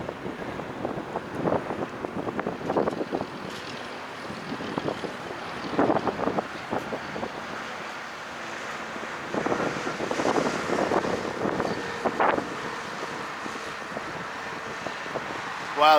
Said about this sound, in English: But that wind's bad.